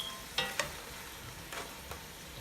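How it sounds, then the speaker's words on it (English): Lobster being stirred with a spoon in a pan to coat it with spice, a few sharp scraping clacks over a faint, steady sizzle, close and fairly quiet. "I'm gonna stir it and coat it with spice."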